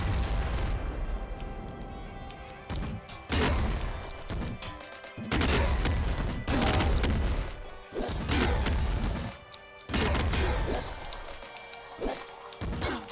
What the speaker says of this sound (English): This is not a normal grenade launcher.